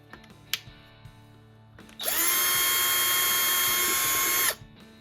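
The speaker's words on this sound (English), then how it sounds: "for drilling the holes in these." An electric drill whines steadily at high speed for a couple of seconds, drilling holes in scratch-built model railroad tanks, preceded by a few light clicks and knocks, close and loud.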